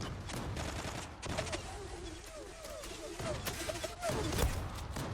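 M4 Super 90 shotgun shots in the Zula video game: a run of quick, fairly faint blasts mixed with crackling action sounds, with a voice talking over part of the gunfire.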